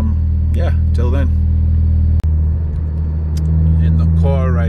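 Steady low engine drone and road rumble inside a moving car, constant throughout, with a voice talking over it and a brief dropout midway.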